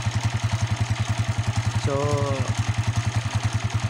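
A motorcycle engine that had been hard starting despite having electrical power idles steadily after starting on one click, with a loud, close, even pulsing thump throughout and someone briefly speaking over it.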